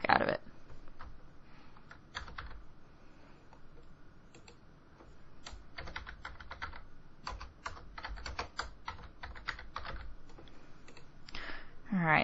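A computer keyboard is tapped in irregular bursts of crisp clicks while someone works in drawing software, with quiet gaps between runs of key presses and a few louder clacks at the start and end.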